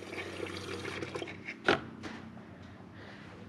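Fuel from a Lexus SC400 fuel pump pours into a container, a steady close liquid flow with a brief louder splash partway through before settling back to a smooth trickle.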